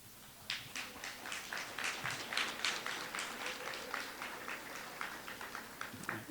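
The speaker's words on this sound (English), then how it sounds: "give them a round of applause" Graduates in a college commencement auditorium clap for family and friends, a moderate, uneven patter of hands rising and falling over several seconds, somewhat distant.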